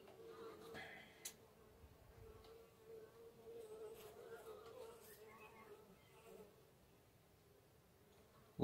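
Honey bees buzzing steadily around an open hive during an inspection of frames with eggs and young larvae, a continuous close drone with faint occasional sounds and no talk.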